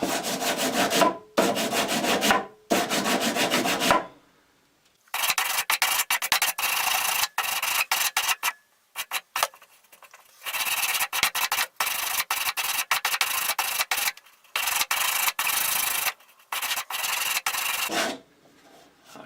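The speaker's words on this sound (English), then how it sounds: "Switching to 60 grit, the 170 was getting clogged up." A wooden handle of a Hultafors chopping axe is sanded by hand with coarse 60 grit sandpaper, giving close, loud, raspy rubbing strokes in bursts separated by short pauses.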